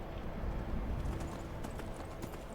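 A horse in Skyrim clip-clops at a gallop, a dense, fast patter of hooves heard close and steady throughout without any talk.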